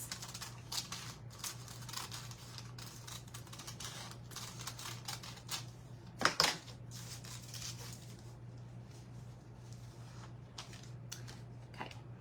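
Decoupage paper snipped down to size with scissors, a series of soft, close crisp cuts and paper rustles over a faint steady hum, with one louder crinkle partway through.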